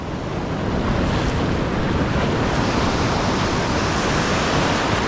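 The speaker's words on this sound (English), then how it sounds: "The southerly wind has just come in and started absolutely howling" A strong southerly wind howls over open water, with heavy, loud, broadband roaring that buffets the microphone and carries a surf-like rush and no let-up from start to finish.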